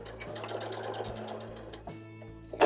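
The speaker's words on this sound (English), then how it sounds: "all you do is sew the entire length of the seam" A sewing machine stitches the full length of a quarter-inch seam, its motor running in a steady, even whir close by, with a brief pause near the end before a louder clack as it stops.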